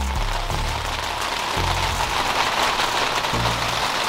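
Steady, heavy rain drums on a cheap Walmart canopy during outdoor car exhaust work, a dense close patter that holds loud throughout, with low tones pulsing faintly underneath.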